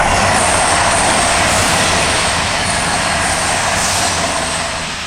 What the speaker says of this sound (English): Hot on his heels are two unidentified Cross Country Voyagers